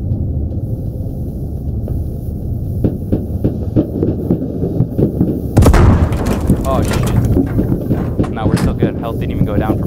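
Machine gun fire in a video game, heard as repeated sharp bursts of shots that intensify into a dense barrage midway, with background hum throughout.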